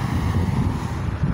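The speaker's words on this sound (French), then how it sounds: "désolé pour le vent." Wind buffets the microphone outdoors on a clear, sunny day, a steady low roaring rumble with gusting swells that fills the whole short stretch, with no voice over it.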